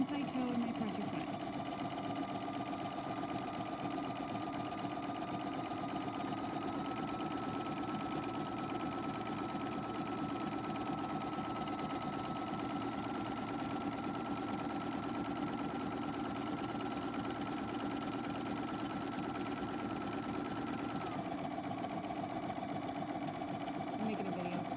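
A sewing machine stitches steadily along a pillowcase edge, a continuous close mechanical whir and rapid needle rhythm that holds even for most of the run before slowing near the end.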